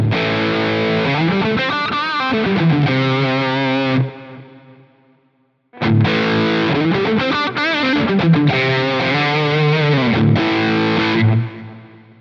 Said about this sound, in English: explain why you might see me stacking different gain stages like that for some of the lead tones in my presets